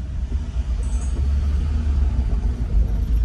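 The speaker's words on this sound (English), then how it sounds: "We got the city of Savannah, a vehicle driving by us. It's a pickup truck." A pickup truck rolls past on a brick street in Savannah's historic district, heard as a low continuous rumble of tires and engine, fairly close with no voices.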